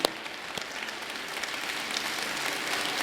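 A church congregation applauds in praise, a steady wash of many hands clapping at moderate level throughout, with no voices rising above it.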